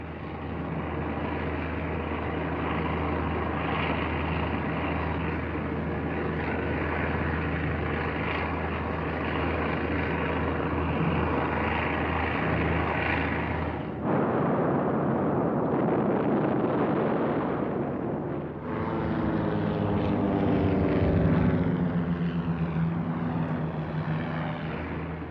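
WWII Luftwaffe Messerschmitt Bf-110 aircraft roar through strafing attacks in a dense, loud drone of propeller engines mixed with rumbling blasts, shifting in character midway and swelling again toward the end.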